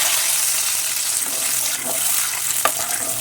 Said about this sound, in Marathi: गरम पाणी घालायचं